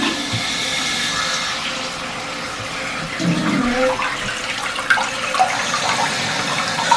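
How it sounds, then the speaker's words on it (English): Water rushes steadily into a toilet tank as it refills after the supply line is turned back on following a wax ring replacement, a continuous close hiss with a brief louder surge midway. "turn our water supply back on. So we are going to watch for a leak here, and then go ahead and fill the toilet back up."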